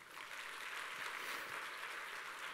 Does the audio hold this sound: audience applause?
yes